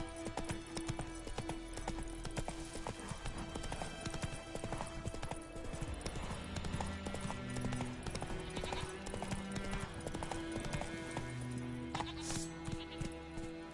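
Horse hooves beat out a steady clip-clop in The Witcher 3: Wild Hunt, the rhythmic thuds continuing throughout at a fairly quiet level against a soft game score.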